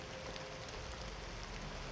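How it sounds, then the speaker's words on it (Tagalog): Heavy rain falls as a dense, even hiss, a steady wash of drops with no letup and no voices, faint and somewhat distant. "So yan, lakas na namang ulan mga tol."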